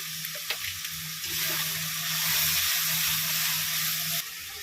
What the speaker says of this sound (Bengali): চিনি, নুন, ধনের গুঁড়ো, জিরের গুঁড়ো, লঙ্কার গুঁড়ো, হলুদ সব একসঙ্গে কষিয়ে নেব।